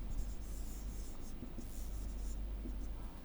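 A marker or chalk moves across a classroom board in a steady scratching and rubbing stroke, close and fairly quiet over low room rumble, with no speech.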